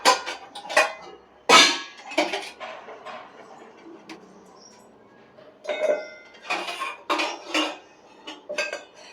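Washed steel dishes and containers being handled and set down, giving scattered close metallic clinks and clatters with quiet gaps between them, no voices.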